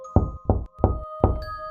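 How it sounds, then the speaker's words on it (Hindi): Four loud knocks on a door, evenly spaced and close by, each a hollow wooden thump, with a faint steady hum in the background. "लगभग 2 घंटे बाद अनुज को दरवाजा खटखटाने की आवाज सुनाई दी।"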